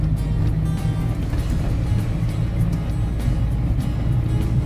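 A car drives along a winding road in Sakon Nakhon, a loud steady low road and engine rumble with wind noise, close and continuous, with no talk.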